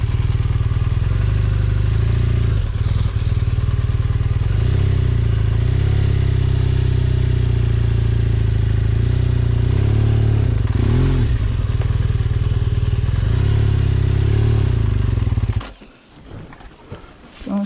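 A BMW R1200GSA motorcycle rides in gear through Utah's Wasatch Mountains, its engine a loud, steady, close drone with wind rush that drops off sharply near the end.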